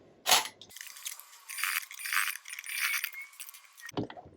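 A domestic sewing machine running a 3 mm top stitch close to raw fabric edges in a few steady, whirring bursts for about three seconds, with soft mechanical clicks at the start and end.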